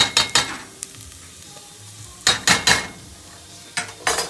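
Tamarind and chili paste going into a hot pot of red coconut curry, with sharp bursts of sizzling and spoon scraping coming in three clusters and quiet frying between them.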